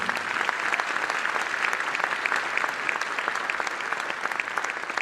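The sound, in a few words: audience applause for staff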